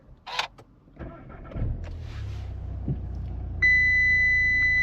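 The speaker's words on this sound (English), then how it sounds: "let's turn on the car right now" A click and a brief whir, then a 2020 Audi TT engine cranks via push-button start and settles into a low idle, followed by a sustained chime tone, close by.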